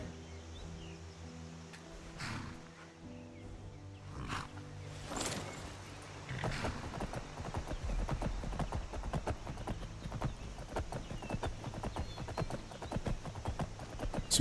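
Horse hooves clip-clop at a steady riding pace in the Skyrim video game, mixed with ambient game sounds and a brief whinny-like burst early on.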